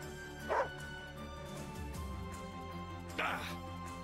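In the Wargroove strategy game, a dog gives two short barks about three seconds apart over a steady game soundtrack.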